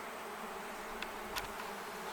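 Honeybees from a three-month-old hive that began as a package and has just swarmed, a steady, dense insect hum holding evenly throughout with a couple of brief louder buzzes passing close.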